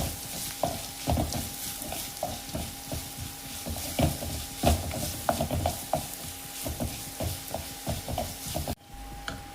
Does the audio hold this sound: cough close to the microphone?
no